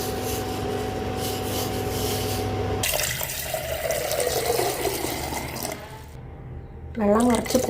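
Water runs and splashes into a pot as tea is started with buffalo milk in a home kitchen, a steady pouring sound that later fades out, followed by a brief voice.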